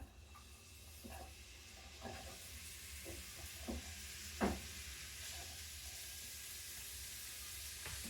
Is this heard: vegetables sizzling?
yes